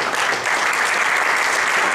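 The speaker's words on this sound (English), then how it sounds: "So, huge round of applause for Shyam Babu." Dense, steady audience applause after a speaker's session at an event, many hands clapping together at a constant moderate-loud level with no voices on top.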